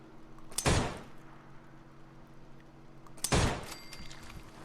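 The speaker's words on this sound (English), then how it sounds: "Come in, take the shot, we shoot the wall." Two separate bursts of gunfire strike a wall in Fallout 4, each a short, loud crack with a rattling tail over a quiet in-game background.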